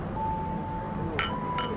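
Two bright glass clinks ring out a moment apart during a toast, moderately near, over a low steady room hum with no voices.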